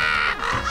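Cartoon crows cawing in a short, harsh burst, loud and close, with no talk over it.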